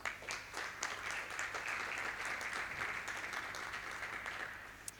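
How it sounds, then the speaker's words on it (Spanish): An audience at an architecture networking event at Porcelanosa Huelva gives a round of applause, soft and fairly distant clapping held evenly across a few seconds. "Así que vamos a darle un fuerte aplauso."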